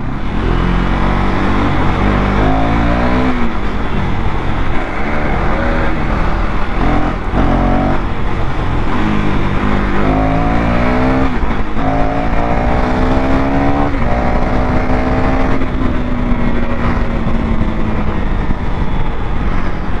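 Two motorcycles ridden at full power on a stunt ride roar loudly and continuously, engines revving up and down in rising and falling pitch sweeps, close and dominant throughout.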